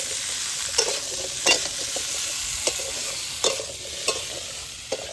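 Masala with kochu (taro) and koi fish is stir-fried in a pan, a close, steady sizzle broken by regular scraping strokes of a spatula every second or so.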